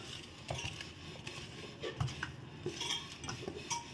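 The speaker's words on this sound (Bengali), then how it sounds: "চালের গুঁড়োটা দিয়ে দিলাম। দিয়ে এটা ভালো করে মাখিয়ে নেব।" Rice flour being mixed into a batter in a bowl, faint soft scraping and stirring with a few light clinks of a spoon against the bowl, quiet and close.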